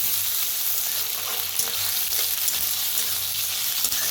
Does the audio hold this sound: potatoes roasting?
yes